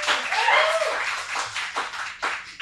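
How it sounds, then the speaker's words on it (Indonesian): An audience gives applause for Bernat in a few uneven bursts of nearby clapping, with a voice briefly heard at the start. "Mana tepuk tangan untuk Bernat?"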